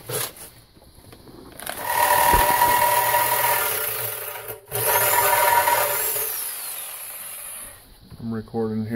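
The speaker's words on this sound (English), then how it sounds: "We drilled 4 holes" A power drill with a half-inch bit bores into concrete with a loud, sustained grinding whine that dips briefly midway, then winds down before a voice starts talking at the end.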